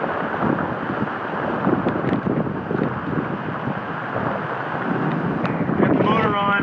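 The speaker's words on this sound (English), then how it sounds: "Here comes a gust." Steady roaring wind from a storm offshore on a sailboat buffets the microphone, with a broadband rush that swells slightly near the end like a passing gust.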